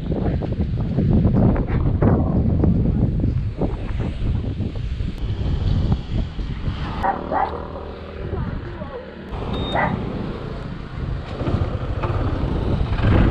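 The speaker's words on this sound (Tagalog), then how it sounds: "lakas ng hangin" Strong wind buffets the microphone in a constant loud roar on a road near Tagaytay, Philippines, gusting heavily throughout with a brief slight lull near the middle.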